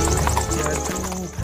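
A toy horse gives off electronic horse sounds, a steady clip-clop rhythm mixed with whinny-like tones, loud and close throughout the short burst.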